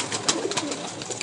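Pigeons bred for flight and endurance, cooing in a few soft, close bursts with wingbeat-like flutters over a steady noisy background, no talk.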